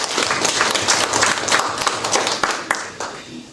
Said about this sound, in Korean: 박수로 한번 격려해 주시기 바랍니다.